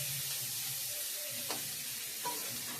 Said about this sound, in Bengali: মোটামুটি আমার আলুটা পেঁয়াজটা ভাজা হয়ে গেছে